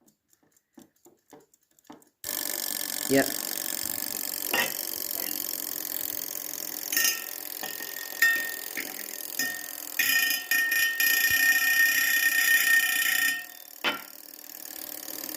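A wound mechanical alarm clock rings continuously once it goes off, a loud, dense bell clatter filling the rest of the clip after a few quiet clicks at the start, with brief dips and one short spoken word.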